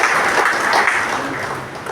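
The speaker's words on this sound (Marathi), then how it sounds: "जोरदार टाळ्या वाजवून आपण त्यांचं अभिनंदन करतो." An audience at a Marathi book launch event applauds, a dense, steady wash of many hands clapping that fades slightly toward the end.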